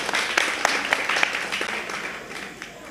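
Audience applause at a spiritual discourse, a dense wash of many hands clapping with a few sharper individual claps standing out, steady and then gradually thinning toward the end.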